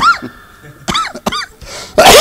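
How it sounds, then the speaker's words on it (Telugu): Several close, harsh coughs come in short bursts with pauses between them, mixed with throat-clearing sounds and a voiced groan, loud and without other talk. "దగ్గు వచ్చేస్తుంటుంది"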